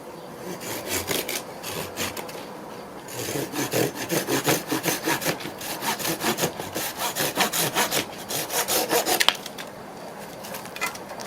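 A Dnipro-M hand saw cuts through wood in steady back-and-forth strokes, a rhythmic rasping series that speeds up midway, close and loud with no talking.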